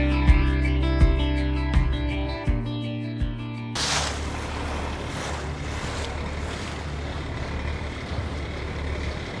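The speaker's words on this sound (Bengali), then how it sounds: "লঞ্চ এইমাত্র ছেড়ে দিল" A river launch pulls away in the Sundarbans: a loud, throbbing low engine drone with rhythmic knocks for a few seconds gives way to rushing water and buffeting wind noise.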